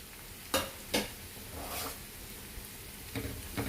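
Curry leaves dropped into hot oil in a pan before okra for vendakka thoran, giving two sharp crackling bursts and then a soft steady sizzle with further pops near the end.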